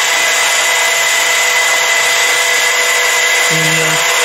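A newly delivered lathe spins at over 900 RPM, giving a loud, steady motor whine with a constant high tone throughout, and a brief low hum near the end.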